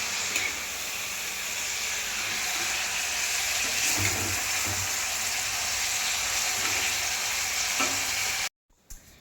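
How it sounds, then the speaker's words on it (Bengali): Carrots, beans, greens, capsicum and peas stir-fry in a pan with a continuous close sizzle and rhythmic scraping of a spatula for about eight seconds before stopping abruptly. "এদিকে ভাজাগুলো স্টার্ট হয়ে গেছে, গাজর, বিনস, শাক, ক্যাপসিকাম আর কড়াইশুঁটি, সব ভাজাগুলো হচ্ছে।"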